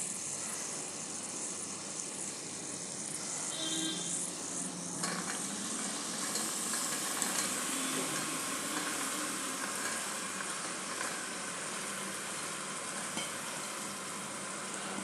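Chopped potatoes and mixed vegetables sizzle steadily while being sautéed in a cooker for pav bhaji, with a continuous close frying hiss and occasional stirring scrapes, no voices.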